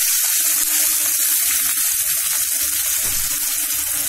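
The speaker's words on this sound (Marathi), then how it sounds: "आता हे तेल चांगलं तापलेलं आहे. प्रथम आपण आधी त्याच्यामध्ये मीडियम साईजचा जो कांदा बारीक चिरला होता तो टाकूया." Finely chopped medium-sized onion goes into hot oil for a dried Bombay duck and potato curry, giving a loud, close, continuous sizzle and hiss with light stirring sounds and no talk.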